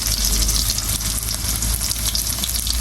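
Chopped onion and garlic frying in hot oil with cumin, a loud, dense sizzle heard up close that holds steady for a few seconds with nobody talking.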